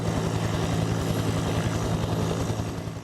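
Helicopters and water bomber aircraft work a wildfire in hot, dry Northern California, a steady, loud, droning engine and rotor hum with a rhythmic low pulse and no voices.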